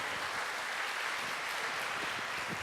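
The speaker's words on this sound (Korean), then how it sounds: "다시 한번 뜨거운 박수로 경계해 주시도록 하겠습니다" A church congregation claps through a Sunday afternoon service, making a steady, even wash of applause that runs at moderate loudness for the whole stretch without breaks.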